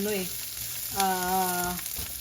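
Onion and garlic sautéed in a pan as the base for pork adobo, giving a steady, close sizzle that runs throughout, overlaid by a couple of brief tonal hums.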